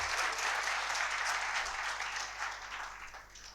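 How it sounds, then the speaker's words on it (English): Conference attendees at a regional management conclave applaud in welcome, steady, fairly distant clapping throughout with no speech over it. "I would like to welcome her with a round of applause."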